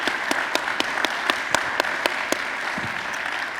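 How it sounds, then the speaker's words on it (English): An audience at a morning workforce event gives a round of applause: steady, moderately loud crowd clapping with a few sharp, distinct claps standing out, fading slightly toward the end. "let's give a round of applause to our friend."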